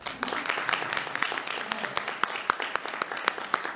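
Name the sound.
audience applause after debate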